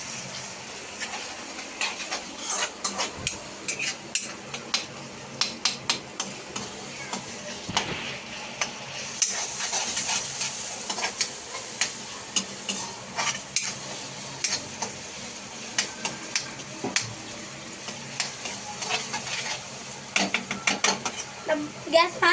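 A pav bhaji mixture being stirred and cooked in a pan, giving a continuous hissing sizzle with frequent irregular scraping clicks from the utensil. Close and moderately quiet throughout.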